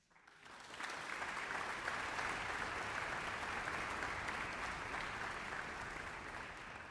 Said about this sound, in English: I think that by itself deserves a round of applause